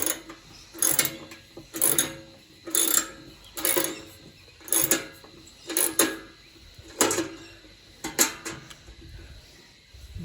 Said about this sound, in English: This is a lawn sweeper